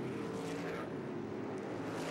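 Race cars at speed on the short oval during the Little 500, a continuous dense engine roar of the field circling the track, steady and loud without pauses.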